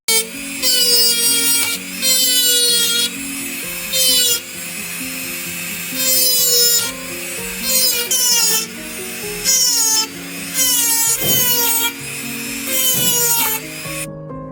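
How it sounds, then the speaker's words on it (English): A handheld grinder whines in repeated bursts against an Apple Watch Series 9 rear glass, shattering it, loud and close, with grinding and scraping between the pulses. "Use a handheld grinder to shatter the ring of the rear glass all the way around."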